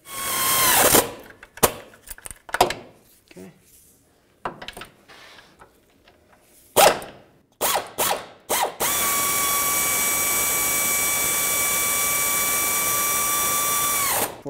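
A ratchet wrench clicks in quick bursts while clutch bolts are tightened on a 2006–2011 Honda Civic, then a power tool whines steadily for several seconds, close and loud.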